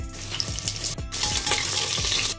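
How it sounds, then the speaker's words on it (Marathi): Vegetable masala fries hard in a pan, a loud, continuous sizzle punctuated by a few sharp clinks and scrapes of a spoon being stirred against the metal, with no talking. "तर गोल्डन फ्राय होऊन द्यायचा."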